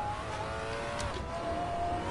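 A race car idles and creeps along the pit lane in a PS4 racing game, giving a steady, moderately loud engine drone with a thin whine holding a constant pitch throughout.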